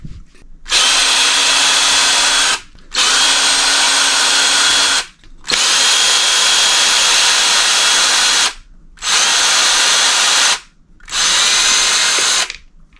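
A power drill backs out screws on an RC truck, five whirring bursts of a few seconds each separated by short pauses, loud and close.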